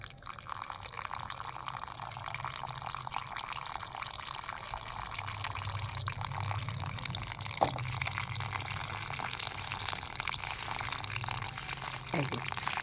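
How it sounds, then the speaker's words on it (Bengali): Water poured to fill a marigold plant pot, a steady, continuous liquid rush with a few splashy drips, fairly close and running throughout. "এবার আমি এইটাকে ভর্তি করে জল দিয়ে দেবো।"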